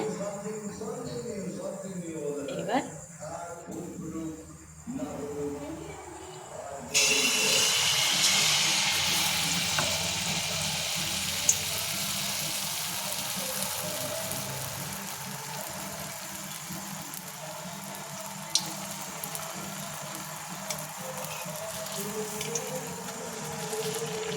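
Malpua batter frying in hot oil in a kadai, starting with a sudden loud sizzle that settles into a steady, close hiss of bubbling oil under light background noise.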